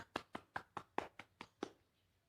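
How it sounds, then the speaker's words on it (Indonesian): A few hands clapping in a classroom for a student group, about eight evenly spaced claps over two seconds, fairly faint and close, then quiet. "Beri tepuk tangan untuk kelompok 2."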